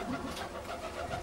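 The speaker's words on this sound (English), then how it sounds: "I want to take pictures of all the boys and their loft. It's a beautiful bird." Tippler pigeons coo at their loft, a soft, close, continuous murmur of calls over a faint background hum.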